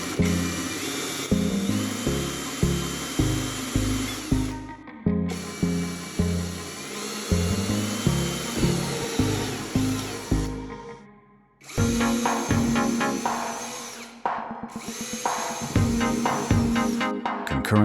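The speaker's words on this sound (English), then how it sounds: "we will proceed to drill a series of small perforations in the structure" Drill boring a series of small holes into the structure of a DIY air cooler, steady whining bursts repeatedly starting and stopping, loud and close, with no talk.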